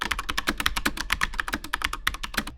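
Fast typing on an RK Royal mechanical keyboard fitted with Silver Switch Pro switches, a dense run of close, sharp clicks and clacks with slight variation in loudness and no voices.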